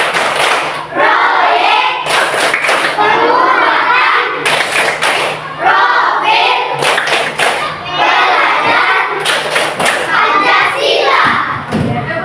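Schoolchildren standing in an Indonesian classroom clap their hands in a patterned rhythmic chant, loud and close, with repeated bursts of claps among children's voices and a teacher speaking.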